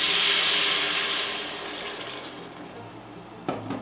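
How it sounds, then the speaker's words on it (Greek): Water pours into a pot of toasted bulgur wheat, a loud hissing sizzle that fades and settles, ending with a brief clatter. "Έχω καβουρδίσει το πληγούρι μου, θα ρίξω μέσα το νεράκι μου."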